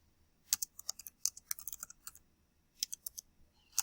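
Typing on a computer keyboard, crisp key clicks in quick irregular bursts with a short pause, close and fairly quiet.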